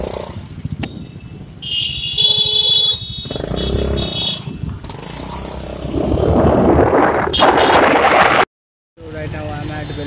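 A modified 2018 Yamaha Ray ZR scooter is ridden on a road, its engine drone and wind rush loud and steady beneath someone talking, broken by a brief cut near the end.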